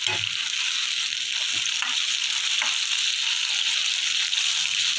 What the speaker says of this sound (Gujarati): આવી રીતના બધા મુઠિયા નાખી અને પાણીથી વઘાર કરી લેવાનું